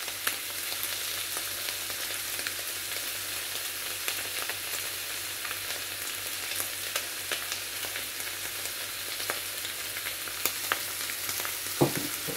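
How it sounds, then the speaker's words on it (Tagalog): Ground beef frying with potatoes and paprika in a home kitchen pan, with a splash of wine added; a steady, bright sizzle runs throughout with small crackles and pops, close and fairly loud, and no talking. "Lagyan natin ng konting wine."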